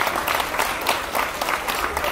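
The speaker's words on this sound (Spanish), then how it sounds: "Esos aplausos, por favor." An audience at a live singing event breaks into steady applause, a dense wash of clapping that fills the room throughout.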